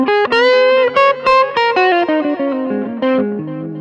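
Overdriven electric guitar, a hollow-body through an EWS Brute Drive pedal, plays a run of distorted, sustained notes and chords, loud and close, with a gritty edge and no voices.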